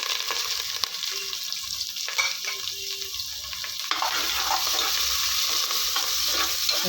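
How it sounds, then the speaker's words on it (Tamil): Steady sizzling of onions frying in a pan, with occasional stirring scrapes, continuous and close throughout. "நல்லா வதக்கி விட்டுருங்க"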